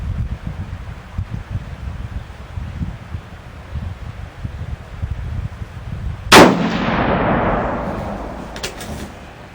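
A single sharp rifle shot from a 6.5 TCU cartridge cracks loudly outdoors during load development, its report decaying over a couple of seconds above steady wind and rustling.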